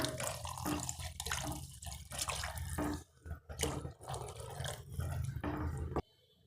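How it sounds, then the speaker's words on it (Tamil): Water poured into a pan of simmering green peas masala gravy (Tamil pattani kurma), heard as a steady close splashing and running stream that carries on for about six seconds, then stops abruptly. "தேவையான தண்ணி சேர்த்துக்கலாம்"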